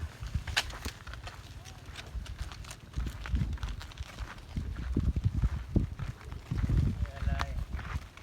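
Cattle hooves thud and clatter on the ground as the herd approaches in a rural village, with irregular footfalls growing louder beneath someone talking and outdoor ambience.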